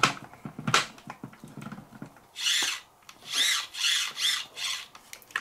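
Small screws being driven to fasten the servo on a Tamiya Sand Rover RC car on a DT-02 chassis: scattered clicks and taps, then four or five rising whirring bursts from a close power screwdriver.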